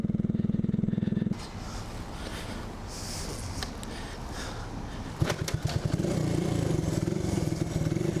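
A 1975 Honda CB125S motorcycle is kick-started: a steady hum, then mechanical clatter and scraping, and finally the small engine catches and settles into a pulsing, chugging idle.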